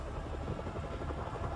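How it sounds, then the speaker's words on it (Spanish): A stolen helicopter in the Spider-Man Remastered video game roars steadily with rapid rotor chop, a loud, continuous whirring drone that fills the short stretch without talk. "¡Roban un helicóptero!"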